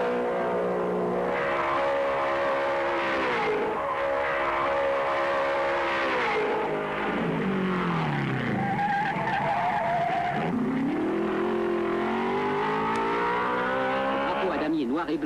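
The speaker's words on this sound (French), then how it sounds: "Et ce sont les derniers passages de Fangio et de Moss" 1950s Formula One cars of Fangio and Moss at the Raidillon bend, loud engines rising and falling in pitch as they pass close by, with tyre squeal, under a continuous wash of track noise.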